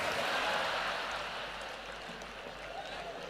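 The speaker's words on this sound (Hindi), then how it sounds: "समापन पर तालियां जोरदार बजा देना" Audience at a Hindi comedy poetry recital clapping loudly, a dense wash of applause that is strongest at first and then eases to a steady level.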